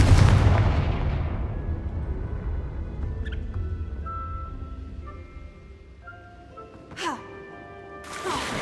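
A Confringo blasting curse goes off in Hogwarts Legacy with a loud opening boom that rumbles and slowly decays over several seconds, followed by fainter magical chimes and two sharp whooshing bursts near the end.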